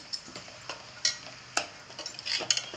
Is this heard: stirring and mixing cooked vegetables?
yes